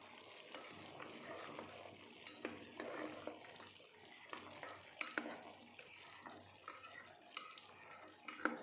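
A spoon scrapes and stirs mutton bone gravy in a pan, irregular clinks and knocks over a soft simmer, close but fairly quiet.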